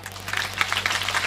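An audience claps together at a kirtan devotional gathering, a dense patter of hands over a steady electrical hum, fairly loud and close for just over a second.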